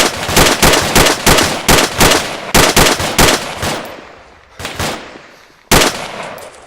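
Rapid bursts of gunfire crack out during a close-contact drill, loud and near, in a fast irregular string of shots that thins toward the end into a few isolated reports separated by short gaps.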